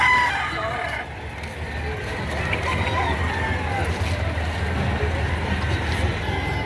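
A Tornado Hatch gamefowl rooster crows at a market amid steady crowd noise and traffic, with people talking nearby throughout.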